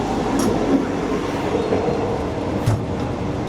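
Inside a carriage of a cheap Thai overnight train, a steady rumbling roll of wheels and carriage fills the space, with soft rhythmic clatter and occasional faint squeaks, close and continuous.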